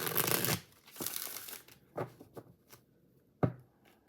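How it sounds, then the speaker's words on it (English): A high-gloss tarot deck is shuffled close by and quietly, with a first longer riffle followed by several shorter papery bursts and flicks between quiet gaps. "Shuffles beautifully and easily."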